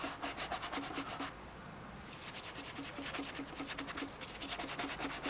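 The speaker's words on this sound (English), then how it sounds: "So I'm scrubbing away there. Scrubbing, scrubbing, scrubbing." Stiff paintbrush scrubbing oil paint onto canvas in quick repeated bursts of rough rubbing, a brief pause midway, then the strokes resume close and steady.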